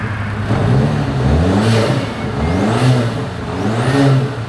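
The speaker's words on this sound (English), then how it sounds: "We're gonna start by revving the Audi. You guys gotta hear it." An Audi car engine revs repeatedly, pitch rising and falling in several swells with a whirring spool on top, loud and close.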